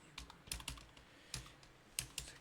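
Keys tapped on a computer keyboard in short irregular bursts, quiet and close, with brief pauses between clusters of clicks.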